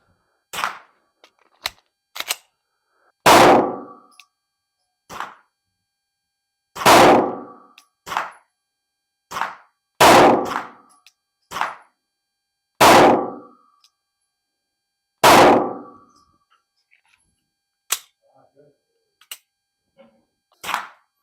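Pistol shots ring out at a target range, about a dozen sharp, loud reports fired singly with irregular pauses between them, each followed by a short echo.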